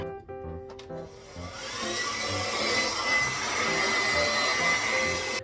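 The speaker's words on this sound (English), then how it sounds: "I'm gonna go ahead and diffuse this." A hair dryer fitted with a diffuser blows steadily while drying type 4 hair styled as a wash and go, a close, continuous whir that rises after a soft start and holds loud throughout, with clicks at the outset.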